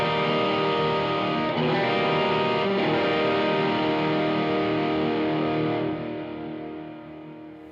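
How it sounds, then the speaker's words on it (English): Electric guitar through an XSonic XTone Pro with DC9 Tube Screamer-style overdrive and a big, long reverb, playing sustained distorted chords that ring out and slowly fade as the reverb tail decays. "DC9 tube screamerish overdrive. And I also wanted some reverb, and that's quite a big, long reverb."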